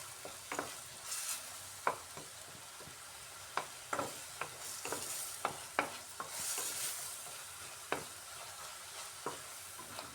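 Ginger and tomatoes are stirred in a hot pan: a soft steady sizzle runs throughout, broken by irregular, close spatula scrapes and clicks against the metal, fairly quiet, with no talking.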